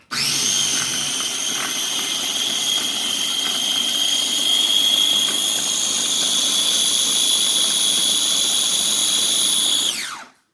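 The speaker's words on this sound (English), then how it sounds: "We're going to puree it, that's it." A blender purees pineapple for a steak marinade, running as a loud, steady high-pitched whir for about ten seconds and then cutting off and winding down, with no voices.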